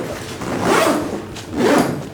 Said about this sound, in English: the zip's also quite sturdy